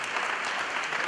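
Applause from a church congregation during a healing service, a steady dense wash of clapping that fills the whole moment without letup.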